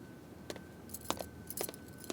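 A ring of keys jangles in several short, bright clusters of metallic clinks spread unevenly through the moment, close by and fairly quiet, with no voices.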